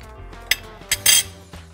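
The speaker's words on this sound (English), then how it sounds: "Give that another stir." A spoon stirs egusi soup in a pot, three or four sharp metallic clinks and scrapes against the side spaced through a short moment, close up with no talk.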